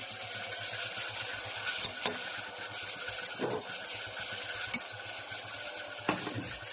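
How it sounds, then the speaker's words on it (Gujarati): Tomatoes tempering in hot oil in a pan sizzle with a steady soft hiss, broken by a few sharp clinks of a spoon stirring against the metal, close up and without talk. "સરસ મજાનો ટમેટાનો વઘાર થઈ ગયો છે."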